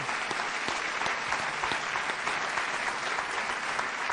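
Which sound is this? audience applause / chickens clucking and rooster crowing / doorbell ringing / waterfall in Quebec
audience applause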